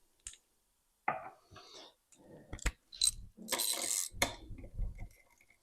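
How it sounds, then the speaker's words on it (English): Ratchet winding a bolt down on a classic Mini gearbox differential unit, a few close bursts of rapid clicking and mechanical rattling with pauses between strokes. "We're just winding it down to pull it into place."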